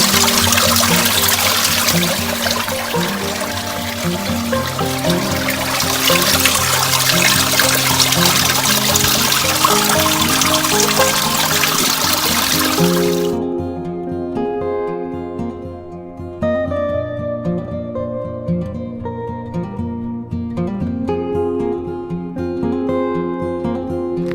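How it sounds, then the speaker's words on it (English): A mountain stream on the Appalachian Trail in Georgia trickles and splashes steadily, loud and close; after a while the rushing softens and the flow sounds quieter and more broken. "Found a beautiful water source."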